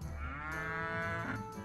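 Cows moo in the video game Rock of Ages 2, a faint, drawn-out bovine low that rises and falls over little more than a second, alone without talk.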